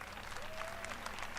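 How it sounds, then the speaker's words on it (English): Audience applause at EA's E3 2018 press presentation, a steady wash of clapping from a large crowd that holds evenly through the short stretch, with some faint background voices and a tone underneath. "Let's give them all a round of applause."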